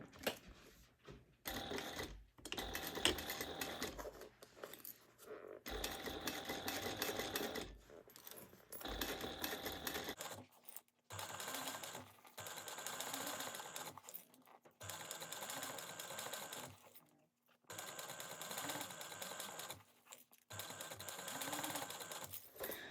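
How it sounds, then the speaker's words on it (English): A sewing machine stitches bag binding at a quarter-inch seam in close, rapid mechanical bursts, several runs of a few seconds each separated by short pauses. "we're going to slide this underneath your foot, and you're going to sew around at a 1/4 inch seam allowance"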